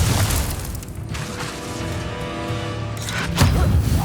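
An Incendio fire spell blast in the video game Hogwarts Legacy, a loud booming whoosh sustained across the clip, with a second burst of impact near the end.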